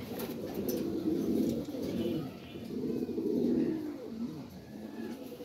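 Male Lahori pigeon cooing in a low, steady rolling pattern, close by and continuous, with soft background noise.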